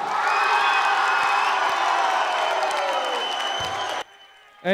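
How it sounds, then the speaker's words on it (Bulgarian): Loud concert audience applause and cheering, a dense sustained wash of clapping with whoops that runs for about four seconds and then cuts off abruptly into near silence. "Сега искаме едни силни аплодисменти само за нашия кавалер."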